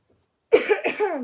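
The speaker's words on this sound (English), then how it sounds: "I'm gonna try not to cough up a lung in the meantime" After a brief silence, a person coughs several times in a quick, close, harsh burst.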